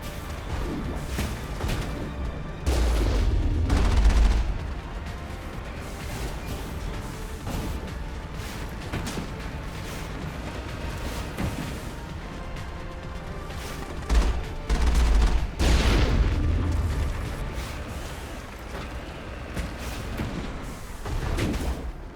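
Geth weapons fire in the video game Mass Effect, bursts of gunfire and heavy booming impacts rattling throughout, with louder close blasts around the third and fifteenth seconds over a dense battle din.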